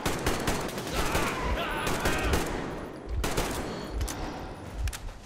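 Rapid gunfire from the Metro Exodus game crackles in dense, loud bursts of automatic shots, close and continuous with brief gaps.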